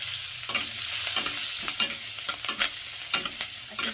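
Ginger and garlic sizzle in hot oil in a pan, with bright crackling and repeated spatula scrapes breaking through the steady frying hiss.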